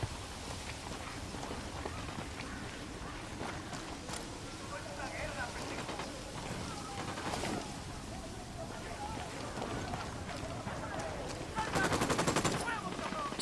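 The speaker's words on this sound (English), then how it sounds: "Opening fire on these fuckers." Assault rifle fire in Ghost Recon Wildlands, scattered bursts and single shots under voices, with a louder, rapid burst near the end.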